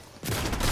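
Gunfire in an online shooter video game, a short burst of rapid shots starting abruptly and holding steady, fairly loud and close with no talk over it.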